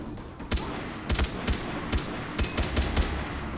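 Submachine gun fire in the video game Far Cry 3 comes as several short, sharp bursts of shots spread across a few seconds over steady game background noise.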